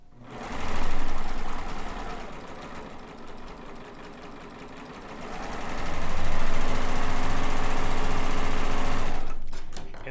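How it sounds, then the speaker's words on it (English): A domestic sewing machine stitches strips of quilting fabric together for a layer-cake quilt border, running in two fast, steady bursts of rapid mechanical chatter close by, with a brief slowdown between them and a stop at the end. "I'm just going to line it up and sew it to this corner here"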